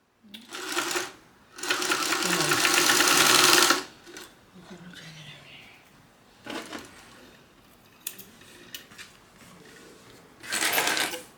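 A sewing machine stitches fabric pieces together for a pet stocking stuffer: a short burst, then a longer steady whirring run and another quick burst near the end, close and loud, with a person talking between.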